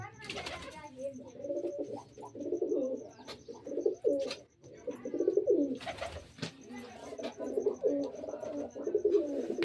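Pigeons coo steadily in low, rolling bursts around a nest holding eggs, the calls repeating close by and nearly unbroken, with soft voices talking faintly in the background.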